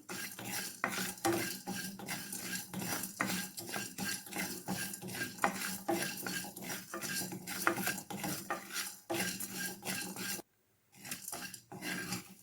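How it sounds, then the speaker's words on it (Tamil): Four garlic cloves roast in a pan over a low flame for a tomato kurma, heard as continuous close scraping and stirring with metal utensil clinks, a brief silent gap near the end. "நாலு பல்லு பூண்டு சிம்மில் அடுப்பை வச்சு பொறுமையாக வறுத்தெடுத்துக்கலாம்"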